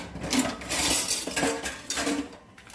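Metal utensils clatter against dishes and a pan in a home kitchen as food is cut up, with a steady run of scraping and clinking taps, close by and moderately loud, no talk.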